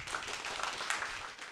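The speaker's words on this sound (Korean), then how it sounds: "박수로 환영해 주셔서 감사합니다." A seated audience applauds to welcome a speaker at a talk, a steady patter of many hands clapping throughout, moderately distant and without voices.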